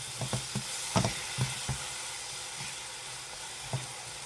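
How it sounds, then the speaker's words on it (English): Onions sautéing in a pan for garlic mashed potatoes, a soft continuous hiss and sizzle, fairly quiet, with a cluster of stirring scrapes and clicks early on and one more near the end. "while I am sauteing them, I am also going to get them very dark"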